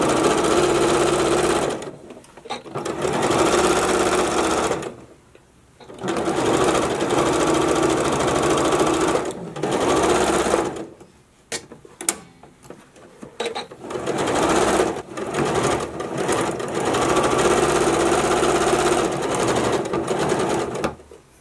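A sewing machine stitches a T-shirt being upcycled into a two-piece outfit. It runs in loud, steady bursts of several seconds, with short pauses between runs as the fabric is repositioned.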